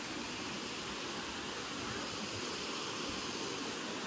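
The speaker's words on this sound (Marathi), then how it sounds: "आता आम्ही आलोय भागसूनाथ वॉटरफॉलच्या इथे" Bhagsunath waterfall near Dharamshala: a constant, dense roar of falling water, loud and unchanging throughout, with nothing else standing out above it.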